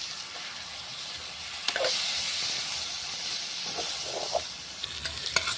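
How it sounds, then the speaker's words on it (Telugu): Chicken curry simmering in a pot over a wood-fired stove in a village kitchen, a soft steady hiss and sizzle with a few faint bubbling pops and light stirring clinks, close and quiet. "ఎలా ఉడుకుతుందో చూడండి. చికెన్ కర్రీ కట్టెల పొయ్యి మీద."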